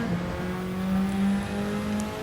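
A Gr.4 race car engine at Spa in Gran Turismo 7 holds a steady, close droning tone over a couple of seconds, with no talking.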